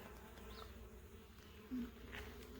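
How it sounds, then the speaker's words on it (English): Steady buzzing of several bees close by around a hive and feeder, a continuous insect drone with small swells as individual bees pass near. "Lots of bees in the feeder."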